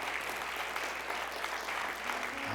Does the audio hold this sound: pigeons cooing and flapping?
no